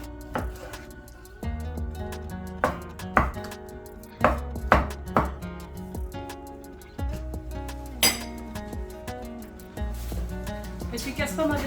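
Veal being chopped for barbecue skewers with a knife on a board, a string of loud, sharp, irregular knocks close by, with faint clinks of dishes and voices in the background.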